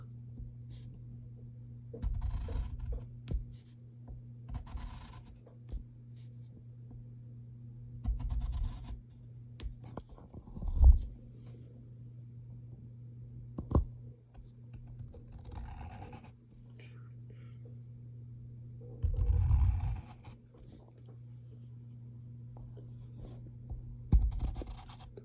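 Pencil strokes on paper while drawing the whiskers of Scar from The Lion King, soft short scratchy lines in sparse bursts over a steady low electrical hum, with no talking.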